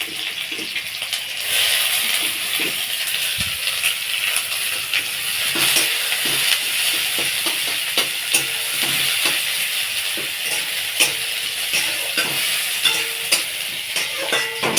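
Chopped onion and two halved dried red chillies frying in oil in a kadai, a steady close sizzle and crackle with occasional stirring clinks and no talk.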